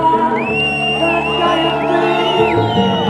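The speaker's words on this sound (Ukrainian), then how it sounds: "Давайте підтримуємо молоду закохану пару оплесками" A crowd at an officers' ball in Zhytomyr cheers and whoops for a young couple right after a marriage proposal, loud and close, with high shouts rising over the noise.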